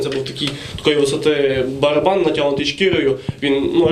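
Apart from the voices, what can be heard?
No distinct noise like a dog, phone or traffic.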